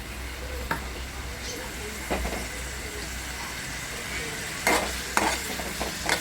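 Chopped onion sizzles in oil in a pan for a liver (kaleji) masala, a steady frying hiss broken by a few sharp scrapes and clinks of a spoon against the pan.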